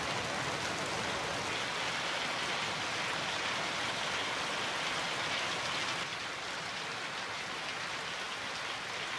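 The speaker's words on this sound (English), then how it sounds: "The icy hailstones fall as if unleashing nature's fury, turning everything into a pile of wreckage." Hail pounding down during a violent storm with typhoon-force winds, a dense, steady roar of icy impacts and rushing noise that stays loud and unbroken throughout.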